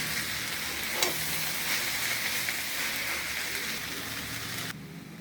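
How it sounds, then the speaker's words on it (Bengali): A vegetable curry with chillies and tomato stirred in a hot pan, continuous close sizzling and frying with a brief clatter early on, the sizzle dropping away abruptly just before the end. "একটু নেড়ে চেড়ে দিই তরকারিটা।"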